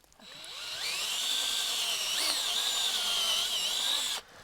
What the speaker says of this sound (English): We'll drill a nice clean hole, and then we'll hammer in a spile